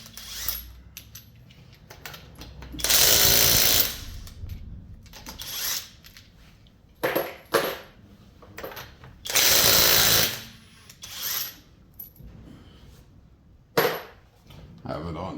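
A power impact tool works on car lug nuts in repeated loud rattling bursts of about a second each, separated by quieter pauses with light mechanical clicks and low speech.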